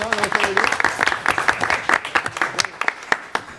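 A school committee meeting room full of people applauds, a dense burst of clapping that thins out into scattered claps, with a voice briefly heard at the start.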